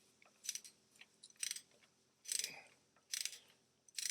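Bolts on a 2013 Ford Fiesta gear selector oil seal job tightened with a ratchet: quiet, close bursts of rapid clicking, about five short runs separated by brief pauses, with no talking.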